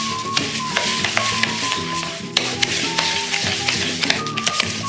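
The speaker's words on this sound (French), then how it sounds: "Et je vais y verser un seul bol d'eau. Je vais tout mélanger." Couscous grains stirred by hand through a bowl of water, a steady scraping, clicking rustle with repeated light taps and grainy swishes close up, continuous for several seconds with no voice.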